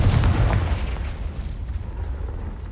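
In the Hogwarts Legacy video game, a Confringo spell lands as a heavy, booming explosion that rolls out and rumbles for a couple of seconds before thinning into a lingering roar.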